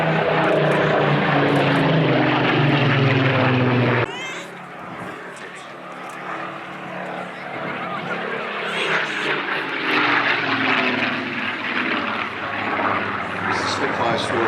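A Spitfire propeller fighter flies at an airshow, its engine a steady, loud drone that shifts in pitch as it passes, dipping briefly then building again across the clip.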